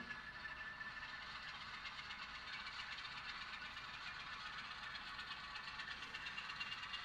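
A model railroad locomotive runs through a double crossover track section, giving a faint, even mechanical hum and whir that stays steady throughout, with a light rattle underneath and no talking.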